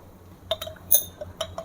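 A vitamin C tablet drops into a glass of water, giving a few light, bright glassy clinks and ticks spread over a second or so, close and fairly faint.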